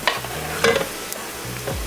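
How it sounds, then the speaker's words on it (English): Garlic sizzling in a tablespoon of hot cooking oil for Filipino arroz caldo, a soft steady crackle with a few faint clinks of stirring, close and alone. "Garlic is already sizzling."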